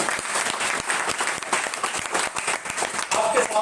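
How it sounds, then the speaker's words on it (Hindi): Loud, steady applause from an LIC agents' audience, continuous rapid clapping filling the room with speech over it. "एलआईसी के लिए तालियां जोरदार एकदम।"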